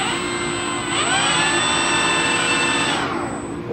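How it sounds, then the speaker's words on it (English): An RC ski craft's electric motor spins up to a high steady whine, rising in pitch after about a second, holding loud and close, then winding down near the end. "So I'm going to go ahead and just do a quick rev up test to make sure everything is working properly"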